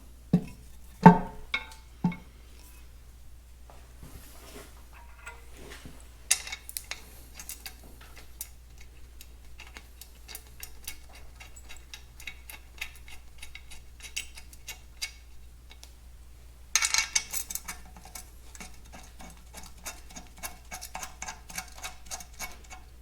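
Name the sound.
bolting up the transmission top cover on a Minneapolis-Moline 445 tractor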